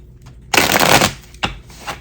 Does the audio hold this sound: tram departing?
no